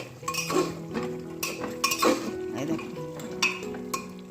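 A metal spoon scrapes and clinks against a pot in repeated stirring strokes as mutton is stir-fried, close and fairly loud, with no one speaking.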